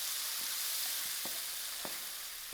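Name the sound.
mixing peas filling with salt in a pan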